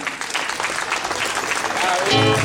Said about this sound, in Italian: Un bel applauso a Bruno e Silvi.